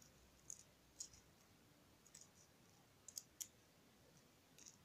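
Scissors cut ribbon for a handmade ribbon flower: a handful of small, sharp snips and clicks scattered irregularly over quiet background, faint and close.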